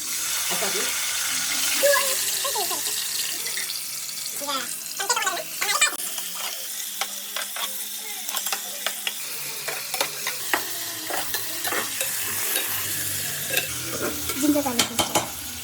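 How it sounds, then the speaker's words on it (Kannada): Chopped onions sizzle in hot oil for a vegetable biryani, a steady frying hiss broken by repeated scraping stirs of a spoon in the pan, with a voice speaking intermittently. "ಸ್ವಲ್ಪ ಎಣ್ಣೆ ಬಿಸಿ ಆದಮೇಲೆ ಹಚ್ಚಿರೋ ಉಳ್ಳಾಗಡ್ಡಿನ ಇದ್ರೊಳಗಡೆ ಹಾಕೋಬೇಕು"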